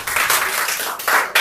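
Hand clapping during a fast-paced English modals translation quiz, a short burst of claps that swells twice toward the end, loud and close.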